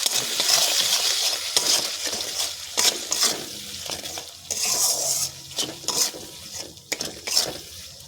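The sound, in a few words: spice masala sizzling and being stirred in pan, fish recipe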